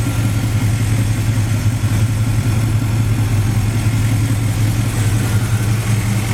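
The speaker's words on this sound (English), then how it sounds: "The engine seems to run nice and smooth." Close and loud, the 454 V8 in a 1972 Chevy Chevelle Super Sport with a 4-speed, MSD ignition and aftermarket exhaust runs at a smooth, steady idle without a break.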